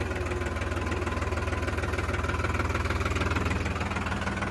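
A tractor engine idles steadily in a rural farm setting during the rice harvest, a low rumbling throb with a regular pulse throughout, close and continuous with no talking.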